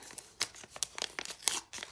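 A paper surprise packet is torn open by hand in a run of crisp ripping and crinkling bursts, close and fairly loud, with no talk over it.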